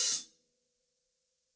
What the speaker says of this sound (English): An open hi-hat sounds like this.